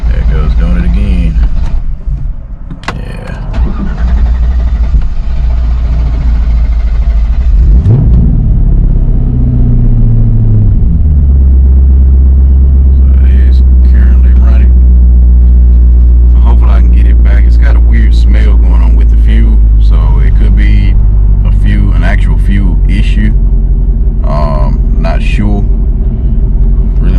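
A Corvette engine cranks and starts, then settles into a loud, deep idle that rumbles steadily while a person talks over it.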